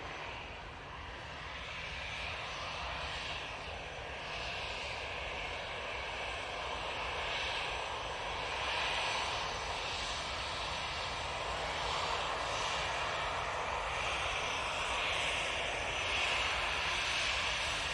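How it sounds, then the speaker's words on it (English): EasyJet jet airliner coming in to land right in front of the observers at Manchester Airport, a faint, steady jet engine roar that swells slightly toward the end, with no talking. "EasyJet coming on, right in front of us"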